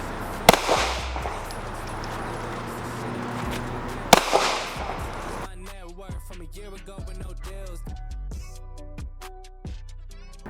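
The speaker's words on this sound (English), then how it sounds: "I'm just going to simply work on shooting on the move." Pistol shots fired during a shooting-on-the-move drill with a ballistic shield: two sharp, loud reports spaced a few seconds apart, followed by fainter clicks and clatter of handling.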